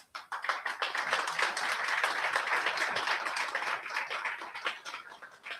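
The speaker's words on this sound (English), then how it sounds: "Please give a huge round of applause to our Buyo artists" An audience at a music festival launch claps in dense, steady applause that swells quickly and then fades, heard from amid the crowd.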